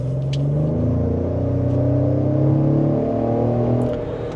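A 2025 Explorer ST-Line SUV engine revs up as it accelerates hard in sport mode, a deep rising growl that swells and holds, close by with no voices.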